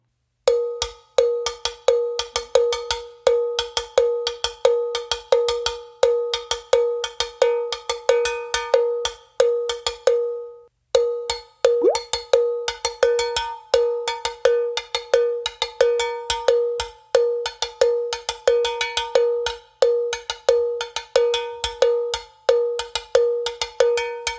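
A metal bell is struck over and over with three different beaters in lively rhythmic patterns, bright and ringing, with a short pause midway before the playing resumes.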